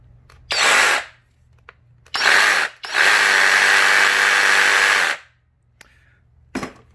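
A Kobalt XTR cordless reciprocating saw, powered by a 4.0 ultimate output battery, is triggered in two short bursts and then one longer run of about two seconds, a loud whining buzz up close, with faint clicks between.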